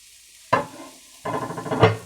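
Peppers, onion and zucchini hit a hot pan and are stirred, giving two bursts of sizzle and scraping, the second longer and louder, close up with no talk.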